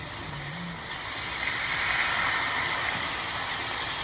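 Pork pieces frying in a pan, a steady loud sizzling hiss running throughout, close up, with no talk over it.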